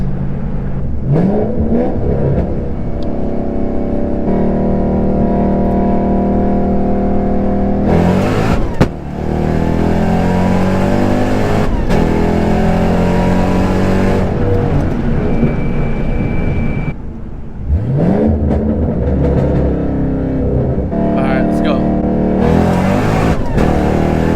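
An 800 rear-wheel-horsepower Mustang on Mickey Thompson Street R tires accelerates hard from a roll. Its engine roars loudly up through the gears with sharp shifts and brief lifts, and a second full-throttle pull follows a short break.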